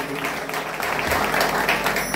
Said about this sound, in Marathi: मेस्त्री बंधूंसाठी एकदा खरंच जोरदार आपण टाळ्या देऊया